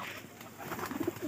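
Domestic high-flyer pigeons coo softly in short, low murmurs after being released from their enclosure, faint against quiet background noise.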